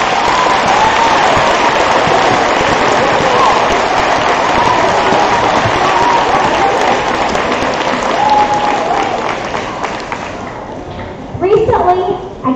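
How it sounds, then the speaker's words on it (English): An 8th grade class gives itself a round of applause at a school event, loud sustained crowd clapping filling the room for about ten seconds before fading as voices rise. "Give yourselves a round of applause."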